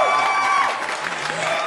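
Audience applause and cheering at the Vedette Magazine Awards 2021 ceremony, a steady crowd wash with a held musical tone over it and brief voices.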